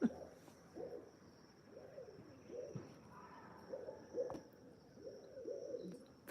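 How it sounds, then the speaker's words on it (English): Outdoor birds call in spring mating season with repeated cooing, hoot-like notes at a steady rhythm, moderately close, over a faint background hiss and no talk. "Those are the birds, I'm sorry."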